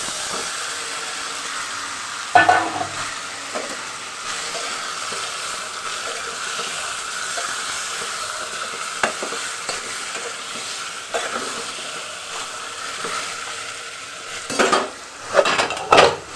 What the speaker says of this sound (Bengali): পেঁয়াজ ভাজা হয়ে গেছে মাংস ছেড়ে দিলাম